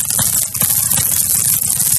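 A field of growing corn gives off a constant close crackle and rustle, thick with tiny pops, steady and unbroken over the short stretch.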